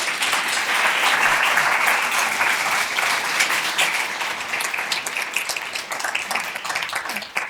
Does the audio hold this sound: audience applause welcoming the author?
yes